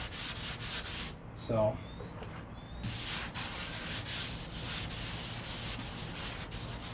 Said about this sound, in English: that's basically what we're going to be doing today, is just sanding down this door